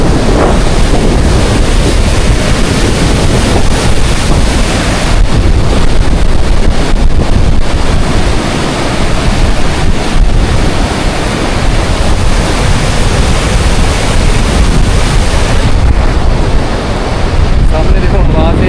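Rushing river water beside an old bridge and a new one under construction near the last village in Nubra Valley, Ladakh, a loud, continuous broadband roar mixed with wind buffeting the microphone throughout.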